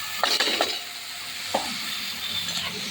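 Chopped potatoes hit hot oil in a spicy masala in a pan, giving a steady close sizzle with a few scraping stirs of a spoon near the start and again partway through.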